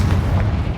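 A Confringo blasting-spell explosion in the Hogwarts Legacy game, one dense, loud, rumbling blast that fills the short moment with low booming energy and no talk.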